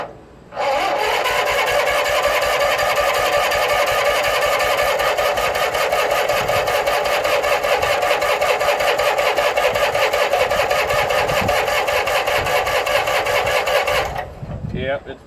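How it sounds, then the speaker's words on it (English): A Craftsman GT6000 lawn tractor engine cranks steadily with a loud, continuous churning drone for about thirteen seconds and never clearly catches, then the starter cuts off. "I gotta work the starter here and choke and throttle and whatnot. So hopefully it does start."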